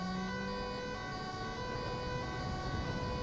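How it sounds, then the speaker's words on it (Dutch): A wailing police car siren from the game GTA 5 runs continuously at steady loudness, with no talk over it. "De Audi sirene klopt niet."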